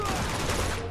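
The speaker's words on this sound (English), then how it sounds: "I can just only hear the gunshot fire-ish type of thing." Gunfire from the video game Uncharted 2: Among Thieves, a dense, loud burst of shots heard briefly and continuously.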